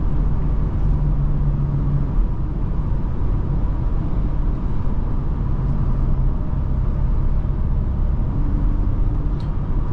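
A 2021 Audi A5 Sportback with its 2.0-litre turbocharged engine accelerating, heard from inside as a steady, loud low rumble of engine and road noise that holds without pause and with no talking.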